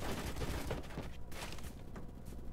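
Gunfire in the Roblox shooter Phantom Forces, a dense fusillade of shots and battle noise filling the whole stretch at steady loudness, with no clear speech.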